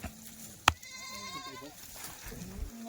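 Kathiawari goats bleat in wavering, quavering calls across a farm shed, with a sharp knock early on and muffled background voices.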